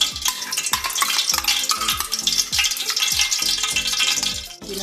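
Onions fry in oil and ghee for chicken biryani, a steady bright sizzle with repeated knocks of a spoon stirring the pan, close and continuous with no talk.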